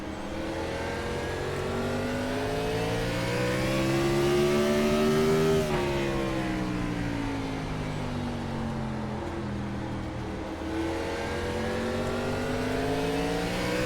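A race car engine in the iRacing game at Martinsville revs continuously and loud, its pitch climbing, falling and climbing again as it runs through the laps, with no voices over it.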